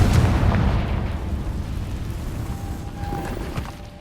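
Confringo blasting spell explosion in Hogwarts Legacy: a loud, deep boom at the start decays into a long rumbling tail over several seconds, with no talk.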